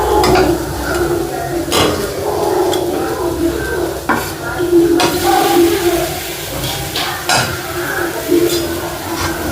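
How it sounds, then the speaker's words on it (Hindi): Okra (bhindi) frying in a pan gives a loud, steady sizzle, broken by repeated scrapes and clinks of a utensil stirring against the metal. "जब तक मेरी भिंडी फ्राई हो रही है"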